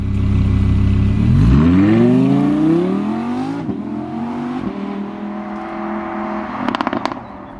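An Audi R8 5.2 V10 Plus engine revs loudly and close, its pitch sweeping steadily upward through the gears, then settling into a hard-pulling drone, with sharp crackling pops near the end.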